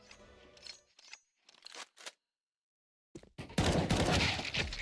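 Video game gunfire in a Berserk League esports match: a loud, dense burst of rapid shots that ends in a headshot, following a few short, separated shots and a brief silence.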